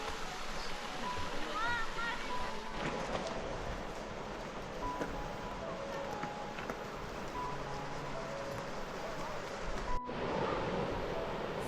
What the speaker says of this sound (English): Stunning little waterfall river